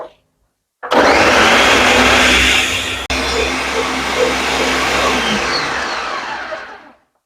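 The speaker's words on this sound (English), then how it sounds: "And we're just going to blend." A countertop blender whirs loudly as it purees chocho (chayote) and oats for Jamaican porridge, with a steady roaring whine for about six seconds, a brief break partway through, then a fade as it winds down.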